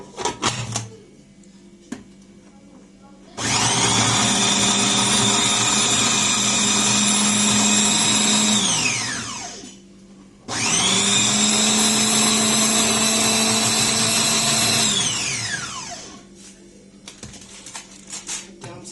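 Electric blender whirring through a fish marinade with coriander and cumin, two loud sustained bursts of several seconds each that wind down between runs, close by and with no talking over them.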